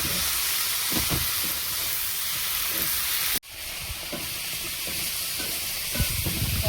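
Spice masala frying in a pan, a steady loud sizzle and hiss that runs throughout with a brief drop in the middle, plus occasional soft stirring knocks.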